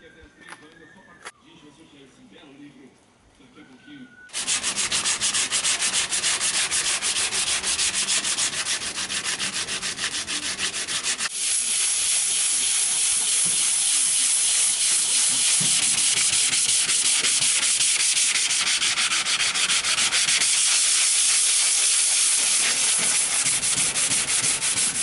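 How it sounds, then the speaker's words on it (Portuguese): Sandpaper worked by hand with a small sanding block over the body of a 1958 VW Kombi, starting after a few quiet seconds and then continuing as a loud, steady, close rasping scrape with rhythmic strokes to the end. "Vem pra cá que a lixa vai comer agora."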